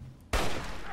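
Gunfire in the Fallout 3 video game erupts abruptly after a quiet moment, a loud dense burst of shots that keeps ringing on with sustained noise to the end.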